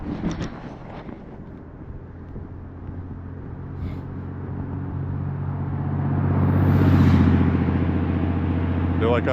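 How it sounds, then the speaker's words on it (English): A truck passes on the road in Lewiston, Maine, approaching from behind and growing into a loud, close rumble that swells midway and then holds steady, with wind noise over the microphone. "I like being able to hear that truck."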